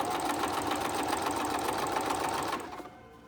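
A sewing machine runs steadily and loudly while stitching a homemade fabric face mask, a fast continuous whir that stops abruptly near the end.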